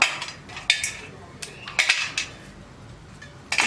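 Madhura seva, a crisp fried snack, snapped into small pieces by hand into a vessel, giving sharp irregular cracks and light clatter against the pot, close up with no talking.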